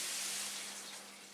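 A brief rush of liquid poured into a cooking pan of vegetables, a steady hissing splash that slowly fades over about a second.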